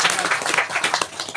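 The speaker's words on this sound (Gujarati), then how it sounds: "વધાવો પેલા તો તાળી." Loud, close clapping from a crowd at a saints' religious gathering, a busy patter of many hands with a few sharper claps standing out, lasting just over a second.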